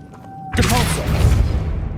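A Depulso spell cast in Hogwarts Legacy bursts from quiet into a forceful, booming impact, then rumbles with crashing debris before fading out.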